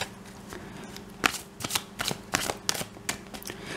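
Fortune-telling cards are shuffled by hand, a run of crisp riffling flutters and soft slaps, close and clear with no talking.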